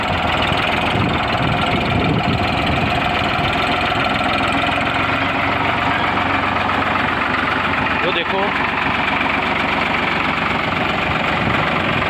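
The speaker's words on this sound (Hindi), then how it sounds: "यो देख लियो भाई कितनी प्यारी आवाज़ है ट्रैक्टर की" An old Ford tractor engine idles with a steady, slightly knocking rumble for the whole stretch, while people talk close by over the running engine.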